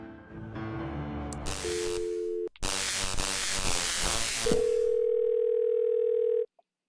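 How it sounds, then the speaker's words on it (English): A telephone in the Thimbleweed Park video game plays a steady line tone that starts and stops, alongside bursts of loud hissing static and a few brief beeps. "It's a phone."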